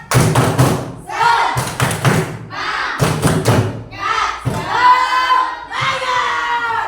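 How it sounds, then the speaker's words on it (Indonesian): A sixth-grade class performs a rhythmic clapping chant together, loud bursts of synchronized claps and thumps alternating with children's shouted chanting in a close, lively classroom. "Yuk, tepuk semangat."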